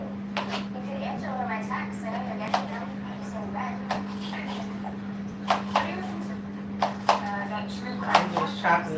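Red, orange and green peppers are chopped with a knife on a board, sharp irregular thuds over a steady kitchen hum, with a person talking throughout.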